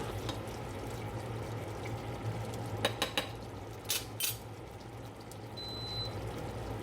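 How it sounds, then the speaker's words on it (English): A spoon scraping and tapping in a skillet while sauce is spooned over prawn-stuffed chicken parcels, a few small metallic clinks and scrapes over a quiet kitchen background hum. "Spoon sauce over the top of each parcel."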